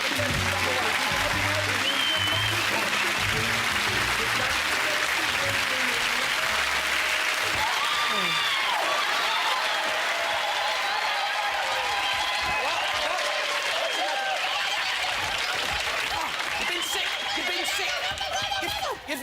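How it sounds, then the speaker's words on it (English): Studio audience on a BBC Saturday-night game show breaks into loud, sustained applause lasting the whole stretch, a dense crowd roar of clapping with a few scattered laughs mixed in. "will you please give a nice big clap?"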